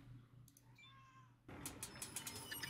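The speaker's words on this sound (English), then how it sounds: "sorry if you hear my cat yelling at me in the background for no reason." A house cat meows indoors, a few soft rising cries up close, then faint tapping and clicking sounds follow.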